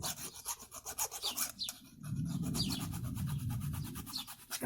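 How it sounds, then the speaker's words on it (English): A hand file rasps against a metal amulet in a steady run of short back-and-forth strokes, then shifts into a denser, heavier continuous grinding; close and clear with no talking. "Now we can grab the file again"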